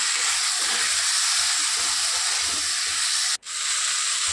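Spice masala with turmeric being sautéed in a pan, a loud, continuous hiss and sizzle that cuts off abruptly for an instant before resuming.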